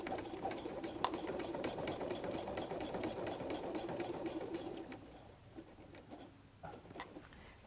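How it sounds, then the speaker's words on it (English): A sewing machine runs steadily, stitching over a triple zigzag stitch on a messenger bag, its rapid needle clatter quiet and close before slowing and stopping near the end. "I'm going to stitch over the triple zigzag stitch"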